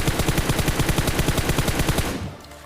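Rapid automatic gunfire in PUBG Mobile, a dense rattling burst of evenly spaced shots that runs loud and close for about two seconds, then cuts off.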